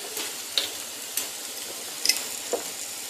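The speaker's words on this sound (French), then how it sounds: "Maintenant on va mélanger ça et on va laisser cuire." Spices such as chili powder, cumin and curry frying in a pan for beetroot cutlets while being stirred, a soft steady sizzle with a few light scrapes and taps.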